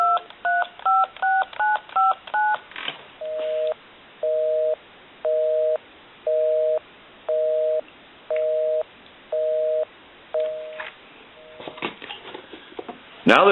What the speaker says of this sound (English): We'll call my number, give you some dial tone, and it'll be busy.